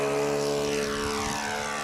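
A propeller-driven RC model airplane's engine throttles up during a low landing approach, a steady buzzing drone with a pitch that shifts as the power comes up, with no voices.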